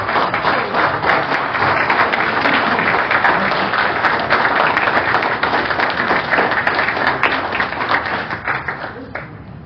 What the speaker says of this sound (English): let us give you a round of applause for your service